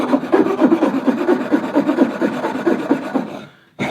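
Hand sanding or filing smooths the underside of a wooden toy crossbow, a close, steady back-and-forth rasping in quick regular strokes that stops briefly near the end before one more stroke.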